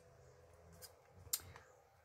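A single quick scissor snip through ribbon, cut at an angle after tying a knot on a papercraft card. The snip is close but faint against a quiet background, with a few soft handling rustles around it.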